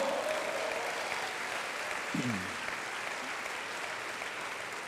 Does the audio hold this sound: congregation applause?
yes